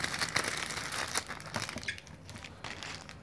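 Thin plastic bag crinkles and crumples as pink slime is pulled out of it, a busy run of close, dry rustles and crackles that eases slightly toward the end.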